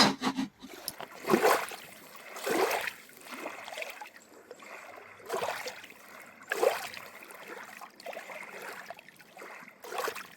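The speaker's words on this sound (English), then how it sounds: "we spend most of our mornings listening to the gentle lapping of the water" Gentle lake water lapping at the shore at Lake George, soft washes arriving every second or two, quiet and close, with no voices.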